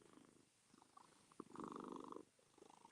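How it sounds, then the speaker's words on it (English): Close, quiet cat purring, a soft rumbling buzz that swells into a stronger stretch midway, with small snuffly sounds around it. "Can you hear him purring, y'all?"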